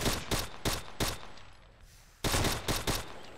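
Bursts of machine gun fire from an SGT-43 in the war game Arma II, set in a 1944 D-Day beach battle: rapid loud volleys, a short pause, then another burst.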